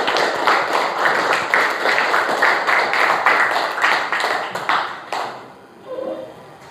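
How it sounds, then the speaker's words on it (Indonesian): Schoolchildren clap in a classroom with fast, fairly loud, rhythmic applause that holds steady, then tapers off and is followed by a short voice. "Tepuk tangan untuk semuanya"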